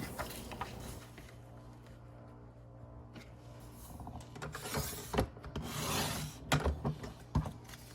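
White paper trimmed down to a square for a craft background: soft scraping and rubbing strokes of a blade through paper, quiet and close, with no talking.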